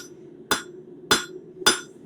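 Three sharp, evenly spaced hammer strikes ring out on sheet metal as a leaf is shaped, each blow a bright metallic tap over a faint steady background hum.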